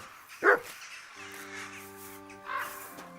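In Kingdom Come: Deliverance II, a single sharp dog bark rings out near the start, followed by a fainter second bark about two seconds later, with a soft tonal hum in between.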